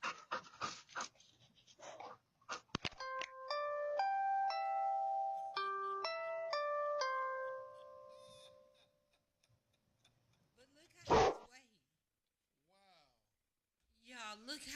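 A dog panting close to a doorbell camera, with a chiming doorbell melody in the middle and a brief louder burst from the dog later, surrounded by quiet stretches.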